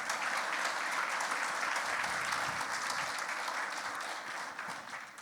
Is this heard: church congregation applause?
yes